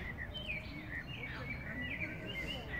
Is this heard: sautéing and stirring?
no